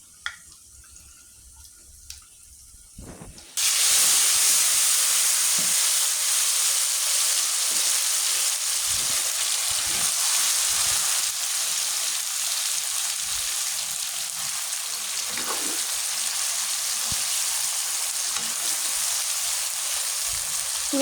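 Spices hit hot oil for a beef curry tempering, bursting into a loud, steady, close sizzle that starts abruptly after quiet kitchen noise and holds evenly for many seconds, with no talk.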